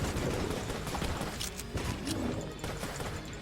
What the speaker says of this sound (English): Oh no! More explosions.